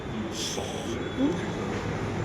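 A Mumbai metro train sends a steady low rumble through the whole stretch, with a brief hiss of air near the start and a faint squeal midway.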